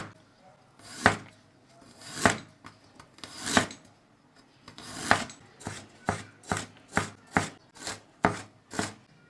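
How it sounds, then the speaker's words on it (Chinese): Knife chopping ginger into thin strips on a cutting board, sharp crisp cuts that start spaced out and speed into a quicker steady rhythm, close and fairly quiet with no speech. "切点姜丝。"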